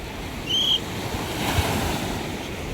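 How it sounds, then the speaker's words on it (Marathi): Sea waves wash onto the beach beside Kunkeshwar temple on the Konkan coast, a steady surging surf with wind, a faint high chirp early on, no speech. "आणि लागूनच असलेला हा समुद्र किनारा."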